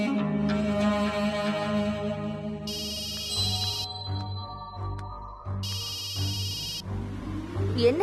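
A telephone rings in a Tamil TV serial scene, two distinct bursts of electronic ringing sounding over a steady background music bed.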